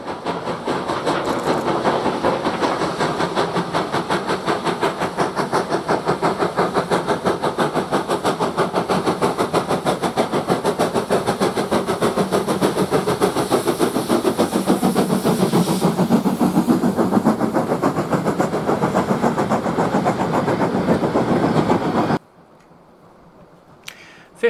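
Steam locomotive 52044 climbs away from Ingrow past a distant signal, a loud continuous chuffing roar with rhythmic beats and a shifting tone as it passes, ending in abrupt quiet.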